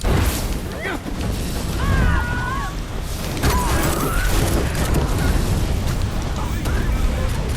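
A loud video game explosion booms and rumbles, followed by sustained crashing, popping debris noise that stays dense and heavy to the end.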